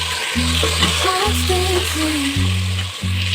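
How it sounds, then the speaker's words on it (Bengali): Meat frying in a pan gives a steady, close sizzle, while stepping musical tones play over it throughout. "দেখুন মাংসগুলো ভাজতে দিয়েছি"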